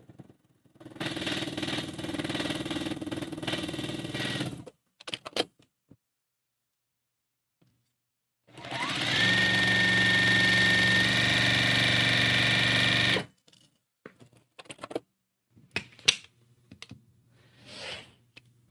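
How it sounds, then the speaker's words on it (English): A sewing machine stitches quilt fabric in two long, steady runs of close mechanical whirring separated by a quiet pause, followed by scattered light clicks and handling noises. "we're going to stitch a 1/4 inch on either side of that line that we just drew"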